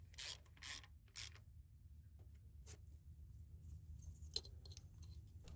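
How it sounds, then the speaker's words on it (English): A hand ratchet tightens the ignition coil bolt over a spark plug, a few short bursts of clicking near the mic early on, then a quiet stretch with one brief sharp tick. "Then tighten it down with the ratchet."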